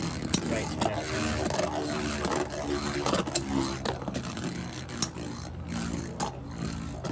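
Beyblade Metal Fight Limited tops whir and scrape inside a plastic stadium, with sharp clacks as they collide, under people talking nearby.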